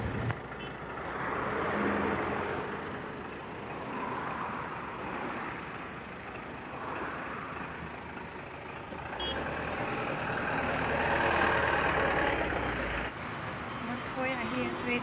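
A bus pulls up along a road with its engine rumbling, backed by the low noise of other traffic and a reversing-style beep. The sound stays fairly steady at moderate loudness, and a person talks over it.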